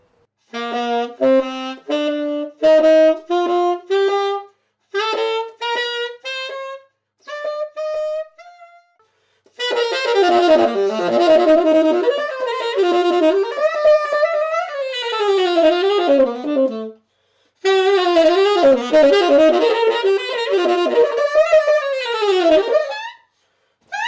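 A saxophone plays with false fingering a fifth below the sounding note, giving a series of short detached notes and then longer bending, wavering phrases, loud and solo with pauses between passages.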